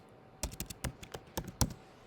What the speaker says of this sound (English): so I have to type in my password